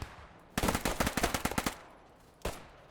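MP40 submachine gun in Squad 44 firing a rapid burst of about a dozen loud, close shots, then a pause and one more distant report, with no talking.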